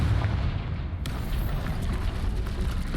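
A Confringo fire spell explodes in Hogwarts Legacy, a sharp blast at about one second over a dense, rumbling game backdrop of booms and crackle that stays loud throughout.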